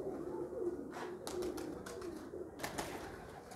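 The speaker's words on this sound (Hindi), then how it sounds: "लो जी है एक होर सलारा कबूतर" Salara pigeons coo close by in soft, low rumbling phrases, with a few brief flutters or scuffs in between, against light background noise.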